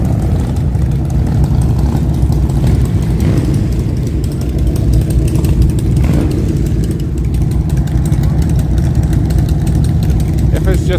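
Motorcycles rumble steadily along a New York City street during the Veterans Day parade, a loud, continuous low engine drone with idling and revving that stays close throughout the span.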